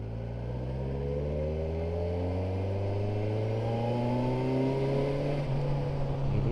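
A Kawasaki Versys 1000 SE cruises in fourth gear at 25 km/h, the engine humming low and smooth from close by, its tone climbing gently as it pulls, steady throughout with no voices.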